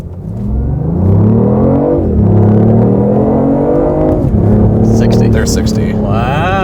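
A BMW i8 hybrid supercar launches hard, its engine note climbing through rising revs with a gear change partway, loud and close inside the cabin, with a voice speaking over it near the end.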